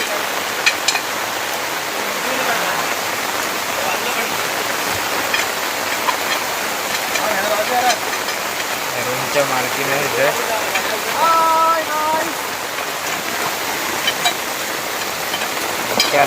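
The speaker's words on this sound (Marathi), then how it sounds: "खूप बेकार पाऊस पडतोय सकाळपासून जाम आहे पाऊस" Heavy rain pours down without pause, a dense, loud, even roar of water filling the whole scene, while people talk over it at times.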